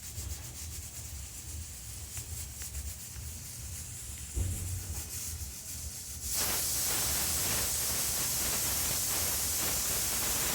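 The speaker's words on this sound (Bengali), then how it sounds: "আমি প্রেসার কুকারে দুটো বাঁশি বা সিটি দেব। এই যে এখন একটা বাঁশি দেবে" A pressure cooker on a stovetop cooking khichuri over high flame lets out a loud, steady hissing whistle that bursts in around the middle and holds at full strength to the end, following a rougher bubbling rumble.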